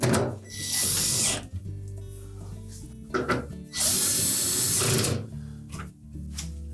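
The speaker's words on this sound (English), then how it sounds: "hang the Icemaker on the two mounting screws. We'll tighten those securely." A power driver tightens the icemaker mounting screws in a Whirlpool refrigerator, whirring in several bursts of a second or two each, separated by short pauses.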